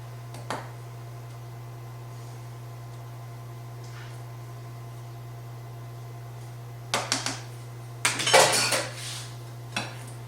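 Zucchini cake batter goes into a greased and floured 9x13 pan. A low electrical hum runs throughout, with a few faint taps early on and then a burst of metal scraping and clinking near the end.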